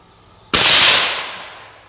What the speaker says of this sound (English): And I love shooting this rifle.